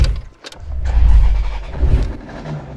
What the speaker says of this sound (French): dès qu'on allume le contact, voilà, ce bruit magnifique